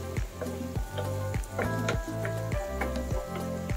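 Vegetables and shrimp sizzle in a frying pan seasoned with black pepper while a utensil stirs in a steady repeating rhythm, each pass bringing a scraping swell over continuous hissing, close and loud, with music beneath.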